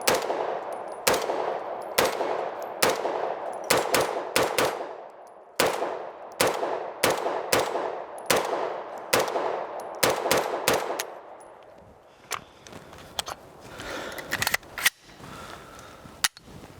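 A Sig Sauer MPX Copperhead fed from a Gen 1 magazine fires a long string of loud, sharp single shots at a fairly steady pace at close range, and the shots thin out into a few scattered reports toward the end.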